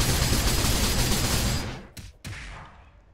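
Rapid bullet-dance gunfire from a fighting game, a dense loud burst of shots for over a second and a half, then fading into a few scattered separate reports.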